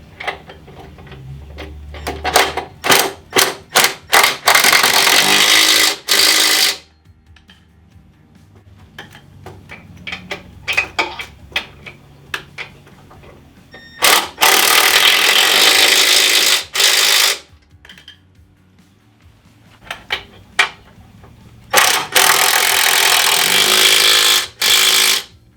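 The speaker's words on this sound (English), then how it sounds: "I'm going to go ahead and snug up my bolts here." A power impact tool snugging bolts on a totaled custom bagger motorcycle during a budget rebuild, firing in loud sustained bursts separated by rapid ratcheting clicks and short pauses, with no talk.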